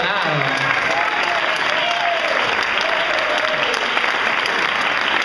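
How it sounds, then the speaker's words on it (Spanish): An audience at a neighborhood arts event claps loudly and steadily for Facundo, a dense continuous roar of hands lasting throughout, with faint voices underneath. "un aplauso para Facundo"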